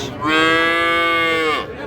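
A young bull calf gives a single drawn-out moo, loud and close, lasting over a second with no talk around it, at a cattle market.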